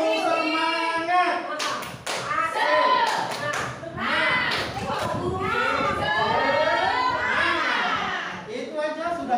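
Schoolchildren in a classroom do the rhythmic 'tepuk semangat' clapping game, with sharp claps and taps in patterned bursts under loud, continuous children's voices chanting and shouting along.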